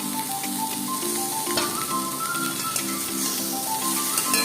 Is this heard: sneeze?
no